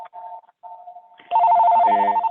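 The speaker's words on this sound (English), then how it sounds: "Whoever has their phone on, can you please mute that?" A mobile phone rings during a municipal board meeting, a clear electronic ringtone with short tonal beeps followed by a louder, richer melodic ring standing alone in the room.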